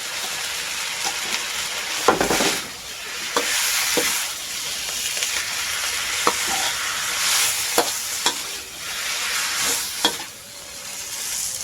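Spaghetti stir-fried with holy basil leaves sizzles steadily and up close, broken by a dozen or so sharp spatula scrapes and clacks against the pan at uneven intervals, with no talking.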